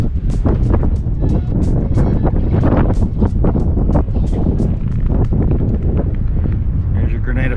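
Strong wind buffeting a camera microphone aboard a fishing boat off Grenada, a constant loud roar with gusty thumps throughout, and no clear talk emerging from it.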